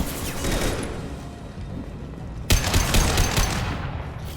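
Mass Effect 2 gunfire: rapid bursts of automatic weapon fire, continuous and loud, with a sharp fresh volley partway through.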